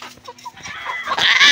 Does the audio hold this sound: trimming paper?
no